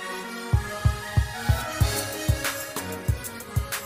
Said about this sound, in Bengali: মটর ডালটাকে আমি শিলে বেটে নিচ্ছি